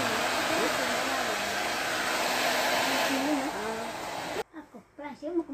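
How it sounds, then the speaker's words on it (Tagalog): A hair dryer blows with a loud, steady whoosh, then switches off abruptly, leaving people talking nearby. "Ito hangin lang. Blower ang tawag dito."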